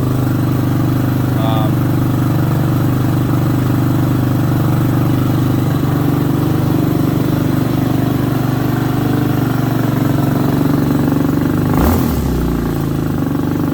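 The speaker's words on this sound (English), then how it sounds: "I don't know if you can hear how loud the valves are." An Amazon Hawk 250 Enduro motorcycle idles close by, its steady engine hum carrying loud valve ticking throughout, with a brief louder burst near the end.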